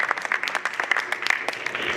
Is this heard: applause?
yes